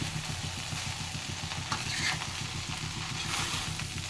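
Masala rice is stirred and tossed in an oiled frying pan, a steady close sizzle with soft scraping of a spatula through the grains, continuous and unbroken, over a low rumbling hum.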